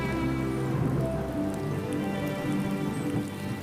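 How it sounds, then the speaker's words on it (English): Steady, dense November downpour falling on forest foliage, a continuous hiss and patter with a low rumbling undertone throughout. "With the arrival of rain, spring ends."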